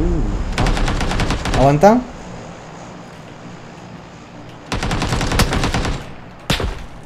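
Rapid automatic gunfire from PUBG, a rifle-based battle royale shooter, rattles out in two loud bursts with a single sharp shot at the end, while someone talks briefly between them.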